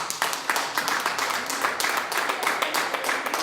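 A church congregation claps in response to a call to applaud, the irregular claps spread across the short stretch with no clear speech on top.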